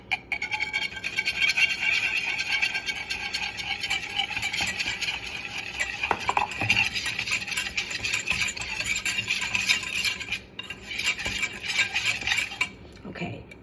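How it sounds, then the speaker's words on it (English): A whisk scrapes and rattles steadily against a metal pan as flour is worked into melted butter for a roux, a continuous close clinking texture with a brief pause near the end. "I am going to whisk in my flour"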